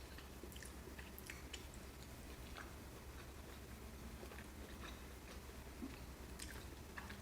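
Chewing on Trader Joe's bulgogi beef kimchi fried rice, soft steady mastication sounds close to the mic, with faint wet ticks throughout and no talking.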